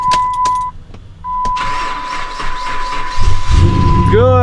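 A 2008 pickup truck fitted with a Borla exhaust cranks after a few warning chimes, then the engine catches and settles into a deep, loud idle rumble close by.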